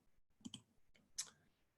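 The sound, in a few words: mouse clicking on computer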